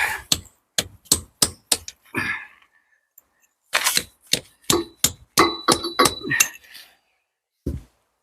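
A hammer strikes a chisel on brick and stonework in a quick run of sharp metallic clinks, then a pause and another irregular burst of ringing taps, loud and close, ending with one last blow.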